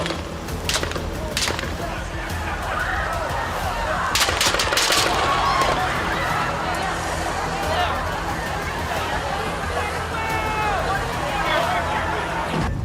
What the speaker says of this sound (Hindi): लेकिन कुछ ही सेकंड बाद गोलियां चलने की आवाज आई।